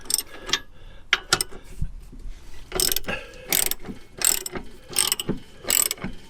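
A ratchet wrench loosens U-bolt and axle hanger bolts on an RV travel trailer's leaf spring, making repeated bursts of close, sharp clicking separated by short pauses.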